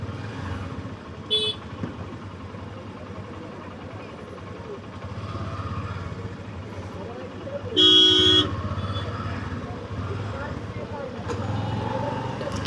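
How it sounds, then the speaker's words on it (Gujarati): Busy road traffic near the Nageshwar temple outside Dwarka, with idling and passing vehicles, a short horn toot early on and a longer loud honk midway, while people talk in the background. "ફૂલે ફૂલ ટ્રાફિક છે અત્યારે"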